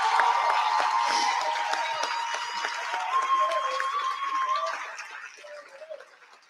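An auditorium audience applauds a staff honoree at a university awards ceremony, a dense, steady wash of clapping with some cheering that thins and fades toward the end.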